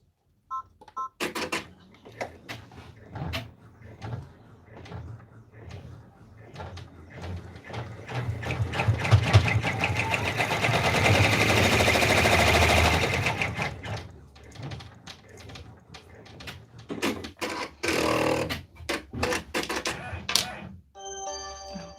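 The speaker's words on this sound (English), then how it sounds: "So now it will do the contour stitching for the nose." An in-the-hoop embroidery machine contour-stitches the nose of a raccoon stuffed toy, a rapid mechanical needle chatter that swells to a sustained loud run mid-clip and is framed by sparse clicks and handling noises.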